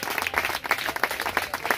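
A Pentecostal church congregation applauds during a baptism service in Cumberland, Maryland, producing dense, continuous rhythmic hand clapping that sounds near and fairly loud, with steady pulsing accents throughout.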